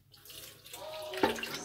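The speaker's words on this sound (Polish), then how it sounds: "Następnie nalewamy, tu jest ważne, 250 ml wody." Warm water, about 40 degrees, being poured into a bread machine pan for bread dough: a short trickling pour that grows slightly fuller toward the end, close and fairly quiet.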